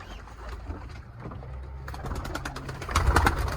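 Domestic Trakya pigeons in a loft, soft repeated cooing and low throaty calls close by, with wing flutters and scuffling growing louder toward the end.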